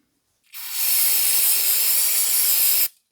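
Compressed air blasts through a transmission shift solenoid from a 2004 Honda CR-V, a loud, close, steady hiss lasting about two seconds that starts and stops abruptly.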